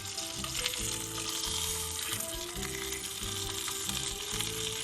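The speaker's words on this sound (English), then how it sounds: "So just making sure I get that sear on all sides." Beef steak searing in a pan, the fat side included, with a steady loud sizzle throughout and no voices over it.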